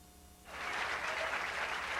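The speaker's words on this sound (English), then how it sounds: "if you're wondering why you're hearing all that applause" Applause breaks out from a bowling crowd at the 1987 PBA Hammer Open, starting suddenly after a quiet moment and then holding steady and loud, filling the room with no voices.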